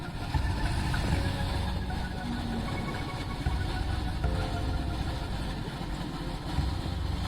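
A car engine idles at a stop during a road trip in Nepal, giving a steady, dense low rumble that holds evenly throughout with no talking.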